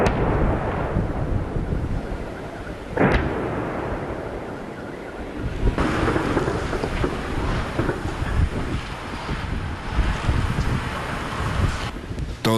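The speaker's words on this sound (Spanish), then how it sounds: "Todo el día, el sonido de los disparos de armas pesadas, de armas automáticas, de artillería y el humo como consecuencia." Heavy weapons and artillery fire in Donetsk, Ukraine, with a sharp distant boom standing out against a constant rush of wind noise and rumbling background.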